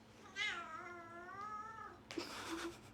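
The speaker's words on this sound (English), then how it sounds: "Did you hear that meow?" A cat lets out one long, wavering meow, fairly close and clear, followed by a short rustling noise and a brief softer chirp.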